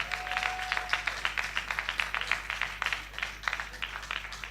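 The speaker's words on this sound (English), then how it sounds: "A round of applause for Antonia." A talent show audience applauds for a contestant, a steady patter of hand claps of moderate loudness with no voices over it.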